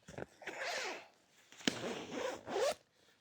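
A zip on the entrance of a Fjallraven Abisko Lite tent is pulled in a few quick, close strokes, soft and raspy, with short pauses between them and no talking.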